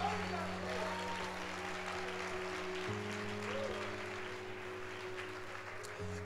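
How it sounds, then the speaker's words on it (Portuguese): Church congregation applauding during a Sunday worship service, a steady wash of clapping over a sustained organ or keyboard drone that shifts chord midway, with crowd noise throughout. "dê um forte aplauso ao Senhor."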